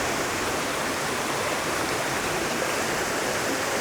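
Water from a hidden waterfall rushes steadily, a loud, even broadband roar that fills the scene without pause.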